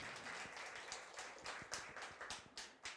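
Audience applause at a career-education results presentation in a hall, heard as a few seconds of quiet, distant clapping that rises and falls in uneven bursts, with no talking.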